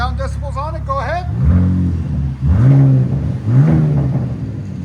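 A 2025 RAM RHO with the 3.0L Hurricane inline-six and straight pipe exhaust revs hard and close up, three rising surges of engine roar with short drops between them, after a brief stretch of voices talking over the idle.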